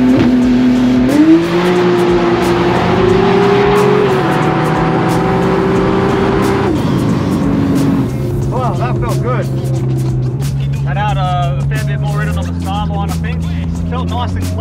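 A big-turbo 2JZ Supra-swapped Toyota Cressida street car with a 9-inch rear launches on a drag run, its engine roaring loud and steady as the revs climb and shift, with talking over the sound later on.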